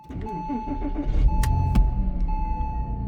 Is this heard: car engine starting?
yes